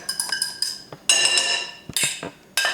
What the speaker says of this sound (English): Beat up your eggs over here, Tommy.